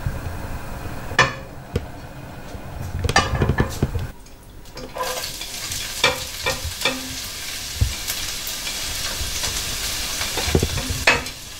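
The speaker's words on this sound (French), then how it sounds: "Je vais brunir mes oignons." Onions browning in a pan for broccoli muambe, a loud close sizzle with repeated scraping stirs and utensil knocks throughout, no talking.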